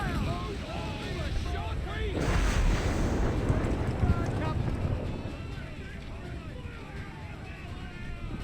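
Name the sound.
ship cannons firing in video game Assassin's Creed 4 Black Flag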